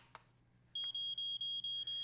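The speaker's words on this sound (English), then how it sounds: "You guys are hearing the beeping right now" An electronic alarm gives a high-pitched, steady series of short, clear beeps at an even rhythm, loud and close, after a brief quiet start with a single faint click.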